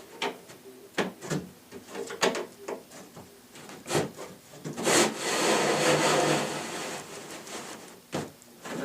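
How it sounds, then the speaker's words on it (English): A lazy Susan cabinet part slides down into wooden mill-work channels, giving a run of close, sharp knocks and scraping rubs of wood on wood with a longer grinding slide in the middle. "It should slide in those channels perfectly."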